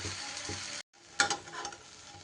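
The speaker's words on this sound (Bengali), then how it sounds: "এভাবে ওই দিকটাও কিন্তু আস্তে আস্তে একই রকমভাবে গ্যাস কমিয়ে আমি ভেজে নেব।" Curd toast sizzles softly in a pan over low gas, a steady gentle frying hiss that cuts out briefly and then resumes with a few sharper crackles.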